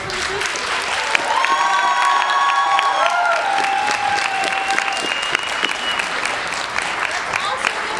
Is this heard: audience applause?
yes